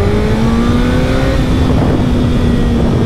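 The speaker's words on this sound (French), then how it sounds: "ce son là, vous entendez le 4 cylindres, comment il ronronne" A 2024 Suzuki Hayabusa four-cylinder motorcycle engine revs loud and close at high rpm, a sustained throaty whine that climbs steadily in pitch under rushing wind noise.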